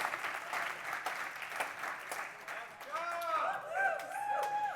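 A crowd at a health conference applauds steadily, then the clapping thins as a voice speaks over the tail of it.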